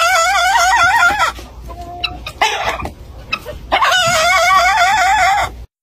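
A rooster crows twice, loud and close, each a long warbling call, with short clucks and rustling between them.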